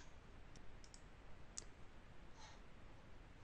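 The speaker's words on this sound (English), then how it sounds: "so I'll click Finish" A computer mouse clicks at a desktop workstation: a few quiet, sharp clicks spread across a few seconds over a steady background hiss, including one crisper click near the middle.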